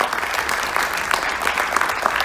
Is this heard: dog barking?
no